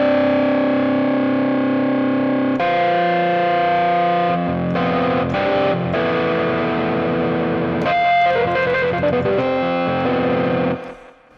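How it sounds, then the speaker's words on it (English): Electric piano patch run through heavy fuzz distortion, playing sustained chords that change every few seconds with some rapid note flurries, loud and close, ending in a quick fade. "So what I've done is chosen an electric piano with a fuzz"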